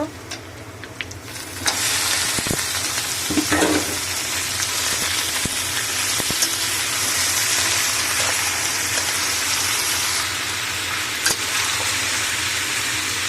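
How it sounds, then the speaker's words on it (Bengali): Pieces of goat mutton fry in hot oil in a pot, a loud, steady, close sizzle hissing continuously throughout, with a few faint clinks of a spoon and no talking. "মাংসটা তেলের ওপরে দিয়ে কষা হচ্ছে"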